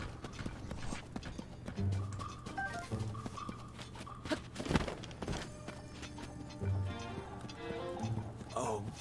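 Horse hooves clip-clop steadily in Zelda: Tears of the Kingdom, a moderately loud rhythmic trotting with occasional thuds, mixed with game sounds and faint background talk.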